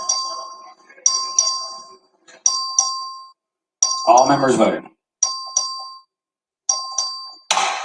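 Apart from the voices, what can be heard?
voting bell rung in Texas House chamber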